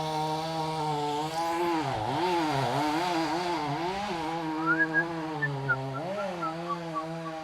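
A chainsaw cuts into a large pecan tree during a tree removal, its engine droning loud and close, dipping and revving under load with a few sharp knocks near the end.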